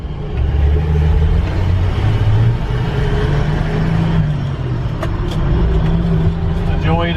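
A 1968 Ford F250 pickup with a rebuilt carburetor drives along, heard from inside as a loud, steady low engine rumble and road noise throughout, with brief higher tonal sounds near the end.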